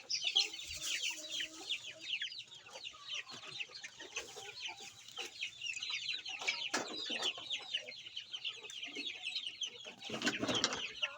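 Chicks peeping in a coop with hens clucking among them, a busy, continuous chorus of high chirps close by, rising in a louder burst near the end.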